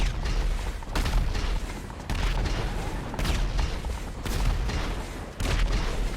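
The Toreador car fires missiles in GTA V, a dense, continuous barrage of booming launches and blasts that comes in rolling waves with only brief dips.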